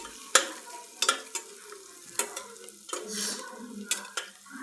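Grain and tomato roast in a pan with a salted onion base, sounding as repeated spatula scrapes and clanks over a light sizzle, close and irregular.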